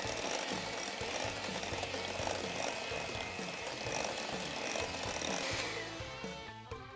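Electric mixer beating cupcake batter after vanilla is added, a continuous whirring motor drone that stays steady and close, then changes near the end.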